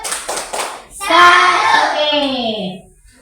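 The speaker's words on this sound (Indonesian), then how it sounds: "tepuk salut" Schoolchildren clap a quick run of rhythmic hand claps, then the class chants together in unison, their voices rising loud over a final few claps in a classroom chant routine.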